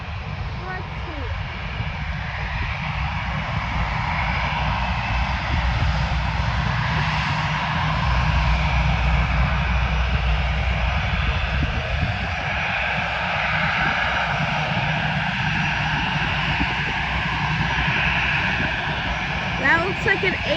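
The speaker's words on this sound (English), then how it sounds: "That looks like an A320neo, I think. A321neo. Heading off to Las Vegas" A Frontier Airlines Airbus A320neo jet takes off at night at Fort Lauderdale airport, a loud, sustained engine roar and rumble lasting throughout, heard from a spotting position with background noise.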